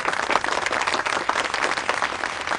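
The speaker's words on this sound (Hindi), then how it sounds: "चंदा के लिए ताली बजा दो एक बार" Classroom applause in a Hindi film scene, a dense burst of many hands clapping together for a student, steady and fairly loud throughout with no talk over it.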